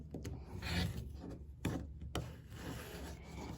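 Rotary blade slicing through quilting fabric strips on a cutting mat, a few rasping cuts and scrapes with ruler handling, close and fairly quiet with no talk.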